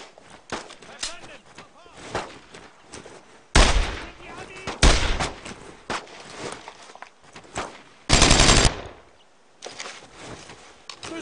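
Gunfire in the World War II shooter Brothers in Arms: Road to Hill 30, several loud separate bursts of shots spread through the clip amid smaller clatters and shouted voices.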